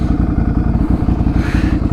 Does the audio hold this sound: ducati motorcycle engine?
yes